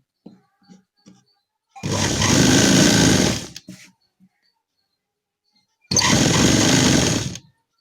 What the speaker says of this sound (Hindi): इसमें कच्ची सिलाई लगा देंगे, मशीन से ही कर लेंगे हम इसको